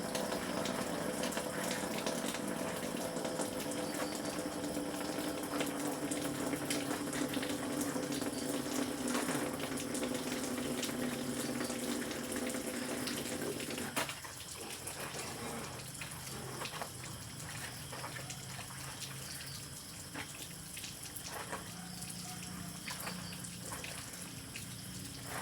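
Water runs steadily from a tap as laundry or dishes are quickly washed and rinsed at a simple rural home, with a fuller gush that drops to a softer, spattering trickle partway through, and soft handling sounds.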